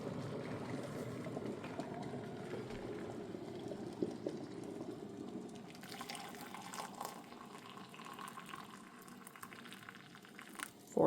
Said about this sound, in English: And this water that I'm heating up is filtered water.